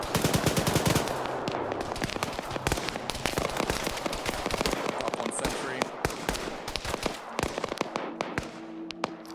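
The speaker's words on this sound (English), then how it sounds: "these guys are firing from the hill" Infantry in the military game Arma 3 fire from a hill, a dense stream of rapid gunshots and automatic bursts with sharp cracks throughout, some near and loud, others farther off, with faint voices underneath.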